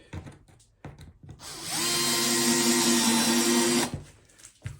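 A small cordless drill-screwdriver whirs steadily for about two seconds while driving a screw, then stops, with faint clicks and handling noises before and after.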